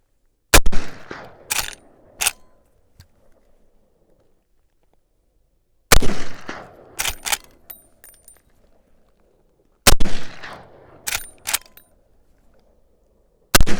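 Lever-action rifle fired outdoors in three separate strings of loud, sharp cracks, each string a quick run of shots with short gaps and fading echoes between them.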